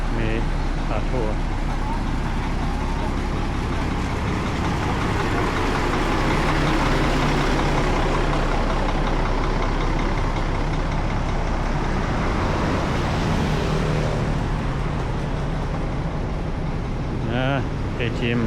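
Tour bus moving along a street in Laos, a continuous low engine rumble and road noise with passing traffic, fairly loud and steady throughout.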